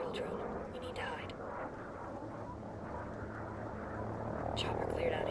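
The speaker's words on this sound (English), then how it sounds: "Enemy helo coming in." An enemy helicopter in Ghost Recon Breakpoint flies overhead as a steady low rotor drone that swells slightly toward the end, with faint voices in the background.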